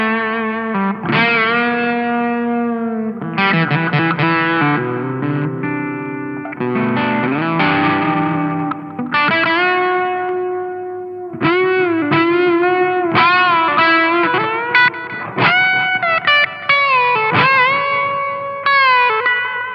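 A Turner Electronics QGS 800 echo effect gives a thick, distorted, sustained tonal line. Each phrase trails off in repeating echoes and reverb, loud and continuous with no talking.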